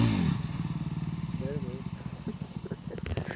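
Motorcycle engine revving hard during a wheelie stunt practice on a Sunday ride, a steady pulsing throttle note close by with clattering at the end; people are talking and shouting over it.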